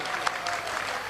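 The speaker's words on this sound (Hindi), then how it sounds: "जोरदार ताली बजा करके" An audience at a spiritual gathering with saints and devotees claps strongly, a dense, steady wash of many hands that continues evenly throughout, fairly loud, with faint voices mixed in.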